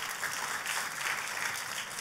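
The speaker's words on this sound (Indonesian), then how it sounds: "Kita kasih tepuk tangan." Audience applause at a church sermon, a steady dense wash of many hands clapping, moderately loud and continuous with no voices over it.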